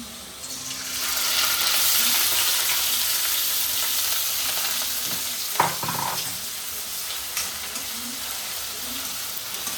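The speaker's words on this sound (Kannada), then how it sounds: "ಈಗ ಫಸ್ಟ್ ನಾವು ಈರುಳ್ಳಿನ ಹಾಕ್ತಿದ್ದೀವಿ. ಎಣ್ಣೆ ಕಾದಿದೆ." Onions hitting hot oil in an iron kadai sizzle and fry steadily, a continuous close hiss with a couple of brief stirring clatters partway through.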